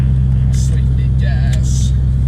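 Ford Mustang GT engine idling after a hard start, a loud, steady low rumble throughout with a few brief higher-pitched noises over it.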